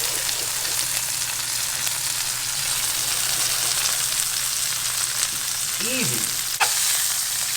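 A burger bun sizzles face down in butter on a hot pan, a steady bright frying hiss throughout, with a brief spoken word and a small clatter near the end.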